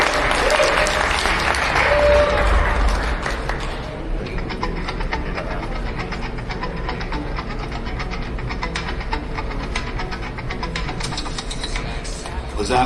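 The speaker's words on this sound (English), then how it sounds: "Big round of applause for every project that presented today" An audience at a hackathon's final day of presentations breaks into applause, loud and dense at first, then settling into a long sustained patter of clapping that continues steadily to the end.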